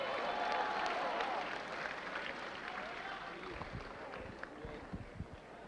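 Audience applauds men's soccer honorees at an Eagle Scholars awards ceremony, a sustained wash of many hands clapping that fades slightly over several seconds, with faint voices underneath.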